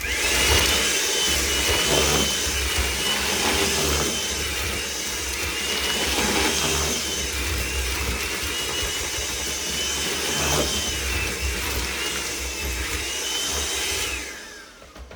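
Electric hand mixer whirring through a bowl of shower steamer ingredients, a loud steady motor drone with small pitch shifts as it moves, cutting off near the end.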